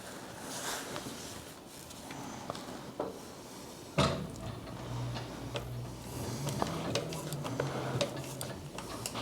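A sewing machine runs steadily, stitching straps in a box crisscross pattern onto the outside of a heavy-duty ballistic nylon tote bag. A low motor hum carries through, with light ticking and clicking from the mechanism and no talking.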